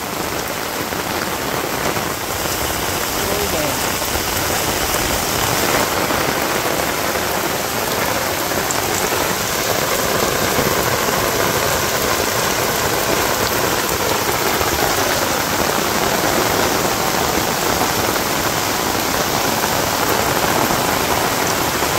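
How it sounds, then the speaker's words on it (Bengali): Heavy rain pours steadily in a Bangladesh village during the rainy season, a dense, loud, even hiss of drops on surfaces that holds unbroken throughout with no voices. "সেই রকম বৃষ্টি হয়েছে,"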